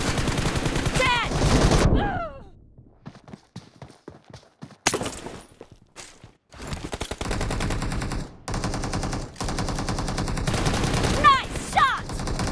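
Rapid bursts of gunfire from the battle royale mobile game BGMI, loud and sharp, with dense volleys at the start and end and scattered single shots in between.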